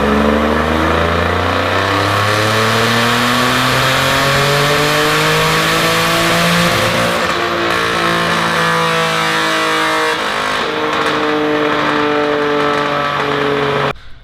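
A turbocharged Mustang running on E85 makes a sustained wide-open-throttle pull, loud and close, its engine note climbing steadily with a brief dip midway before cutting off at the end.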